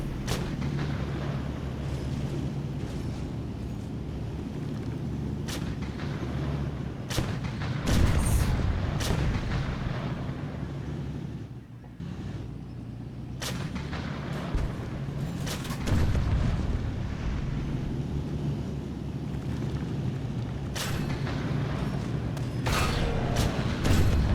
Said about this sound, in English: the sound of that gun on that tank. Like boom, boom.